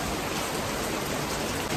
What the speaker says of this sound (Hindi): यहाँ पे देखो जोरों शोरों से बारिश हो रही है।